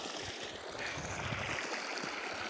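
Irrigation water runs steadily into a potato field with a soft, continuous wash and trickle that is faint and even, with no voices.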